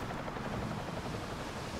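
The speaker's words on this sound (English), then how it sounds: "Great helicopter." Helicopter in the video game Deus Ex: The Missing Link, a faint, steady rotor drone heard alone.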